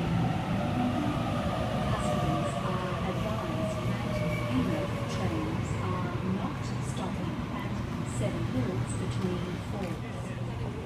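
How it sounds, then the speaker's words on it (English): A Sydney Trains Tangara set, car T71 leading, pulls in alongside a platform at Seven Hills station during the afternoon peak: a loud, steady rolling rumble with faint squealing tones, and voices murmur faintly underneath. "We've got a Tangara arriving alongside platform number 1"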